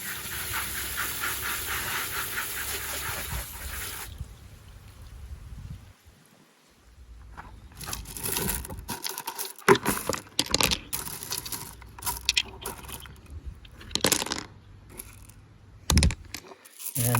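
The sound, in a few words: rinsing tumbled rocks and ceramic beads with water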